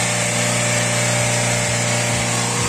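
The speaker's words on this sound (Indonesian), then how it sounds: "Teman-teman bisa dengar sendiri ini posisi dalam keadaan kita gas, RPM tinggi." A car engine is held at high RPM under throttle, producing a loud, steady, smooth roar close by that holds constant for the whole stretch, with no speech over it.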